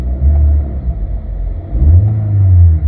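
A 2017 Chevy Malibu with an oil pressure control solenoid valve stuck on revs up from idle. The engine rumble dips, then swells to a loud, steady higher drone near the end.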